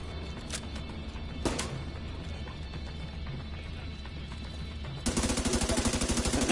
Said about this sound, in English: Eat a shotgun to the face.